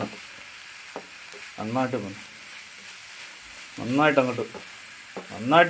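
Eggs being scrambled in a pan for egg bhurji give a soft, steady sizzle in the background while a person talks intermittently over it.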